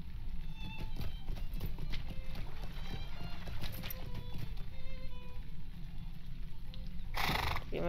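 Horse hooves clip-clop at a steady gallop while riding in the video game Lord of the Rings Online, a continuous rhythmic patter over a busy game-sound bed, with a brief burst of noise near the end.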